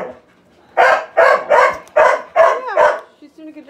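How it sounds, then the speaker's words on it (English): A dog barks six times in quick succession, loud and close, followed by a few softer yips. "being barked at by dogs"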